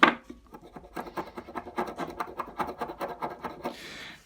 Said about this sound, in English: See there's a bit of corrosion, and that might actually polish off or scrape off.